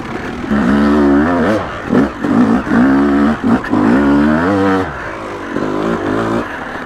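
A Yamaha YZ250 two-stroke dirt bike with Morgan-ported bottom-end power rides along trails. Its engine rises and falls in repeated revving sweeps, loud and close, pulling through without clutching.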